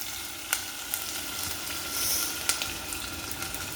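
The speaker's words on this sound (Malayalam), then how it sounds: "അരിഞ്ഞു വെച്ച ചെറിയ ഉള്ളി ഇടുക. അതിന് മുന്നേ ഉലുവായും ഇടുക." Chopped small onions and fenugreek seeds sizzling in hot oil in a pan, a steady close frying hiss with occasional sharp clicks and scrapes as they are stirred.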